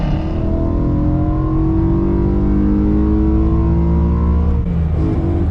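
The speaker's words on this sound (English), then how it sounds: "That exhaust note is so good, and when you pair it to the MPE exhaust with the secondary cat delete" A BMW E92 M3 with an MPE exhaust and secondary cat delete revs loudly and steadily, its engine and exhaust note climbing in rising harmonic sweeps before easing off near the end.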